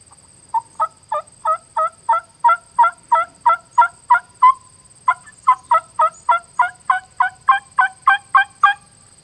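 A three-reed turkey call imitates a gobble in a raspy run of about two dozen rapid, evenly spaced notes, loud and close, with one brief pause midway.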